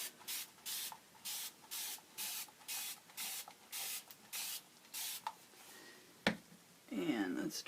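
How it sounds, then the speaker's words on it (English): A spray bottle mists over and over onto an acrylic ink painting for a mixed media portrait background, about a dozen short, even hissing bursts in steady rhythm, close and fairly quiet, ending with a few soft handling noises. "Now let's see what happens when I spray this."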